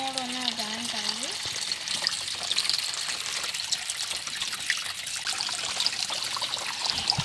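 Water spurting under pressure from holes in a container gives a steady trickling, splashing spray. It runs close throughout, with a brief voice near the start.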